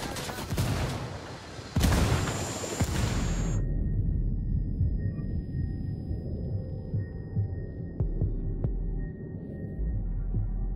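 A frag grenade goes off amid a battle in the open-world shooter Ghost Recon Wildlands: loud, close, crackling bursts of blast and gunfire for a few seconds, then a low rumble under scattered distant pops and a faint steady tone.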